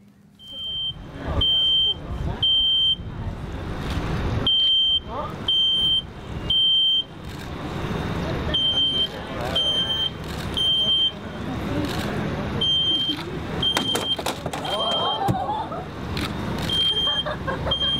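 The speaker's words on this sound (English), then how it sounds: "This is the first time it's ever set off the smoke detector in the other pod." Smoke detector alarm sounding during a residence hall room fire demonstration, repeated shrill beeps in uneven bursts over a rumbling background, with people talking intermittently.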